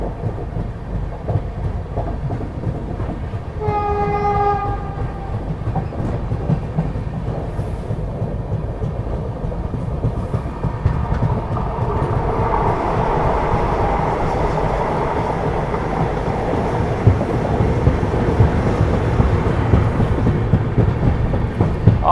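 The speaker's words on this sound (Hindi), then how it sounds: "आठ कोचेस वाली छोटी सी वंदे भारत ट्रेन थी ये" An eight-coach Vande Bharat Express passes close by while riding aboard a moving train at around 130 km/h; a short horn blast sounds early, then a loud, continuous rumbling roar of wheels and rushing air builds and persists.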